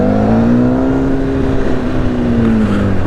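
Close, steady engine drone from a Honda CBR1000RR SC57 sport motorcycle on a test ride, holding a fairly even pitch with slight rises and a dip near the end, with rushing wind noise throughout and no talk.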